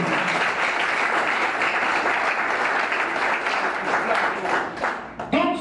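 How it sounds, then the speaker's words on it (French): A crowd applauds loudly and steadily for about five seconds before the clapping fades and a voice begins speaking. "Est-ce que nous ne pouvons pas applaudir"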